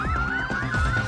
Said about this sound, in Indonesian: Oh, tunggu, itu bunyi alarm.